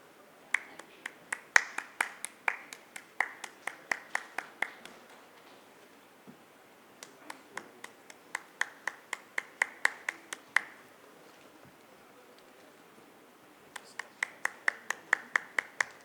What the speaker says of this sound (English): A round of applause for our speakers, please.